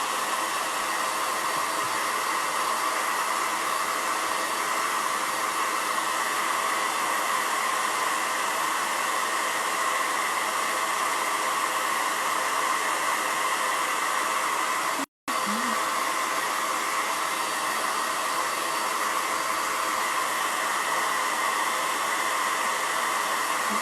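A hair dryer blows continuously and loudly, drying paint on a buffalo plaid holiday camper craft project, with a steady whooshing hum that cuts out for a split second near the end before resuming.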